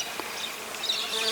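Close buzzing of bees around flowering basil in a garden, a soft continuous hum with slight wavering as insects move about, alone and fairly quiet.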